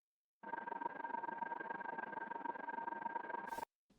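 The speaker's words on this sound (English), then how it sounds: "and then simply just adding a ring modulator to it." A sci-fi sound layer for the Sentinel in Apex Legends: white noise run through a ring modulator, a steady, dense electric hiss with a faint tonal hum that holds for about three seconds, then cuts off abruptly.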